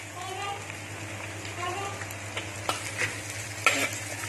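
Chopped onions sizzle and fry in a hot pan over high heat for Punjabi chilli chicken, with a spoon scraping and stirring through them nearby and a faint voice underneath.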